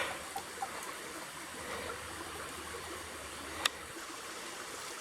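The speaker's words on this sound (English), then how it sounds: "Oh, I can see the waterfall." A cascading waterfall in Gundy's Canyon gives a steady, broad rushing wash of water heard from a distance, with a few faint clicks and a brief knock over the constant flow.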